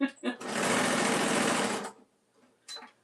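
A sewing machine runs in one steady burst of rapid stitching for about a second and a half, loud and close, with brief speech before and after it.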